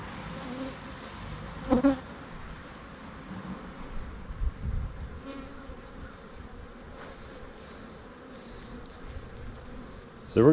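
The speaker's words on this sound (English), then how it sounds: "the bees are following me over here" Honey bees buzzing steadily around a beeyard hive, a continuous close hum with individual bees flying past the listener at intervals, loudest near the start and end.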